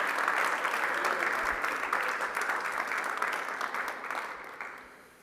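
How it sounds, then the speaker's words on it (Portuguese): A church congregation applauds during a sermon, a sustained wave of clapping from many hands that gradually tapers off and fades out near the end. "Você pode aplaudir a Jesus Cristo por isso?"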